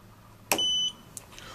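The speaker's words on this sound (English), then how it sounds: "When a beep sounds" A single short electronic beep from an SRG 2000 surface roughness tester sounds once, clear and high-pitched, against a quiet background.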